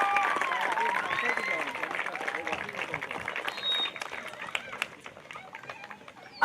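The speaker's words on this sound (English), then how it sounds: "Let's begin the celebration with a huge round of applause for all the teams who took part in the International Cup of Joy" A crowd at the International Cup of Joy 2025 football tournament ceremony gives a round of applause, with scattered clapping and cheering that fades over several seconds as voices carry on underneath.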